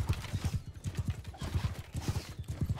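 Galloping horse hooves in the medieval combat game Bannerlord, a steady rapid clip-clop rhythm of repeated low thuds, fairly close and continuous, with no talk over it.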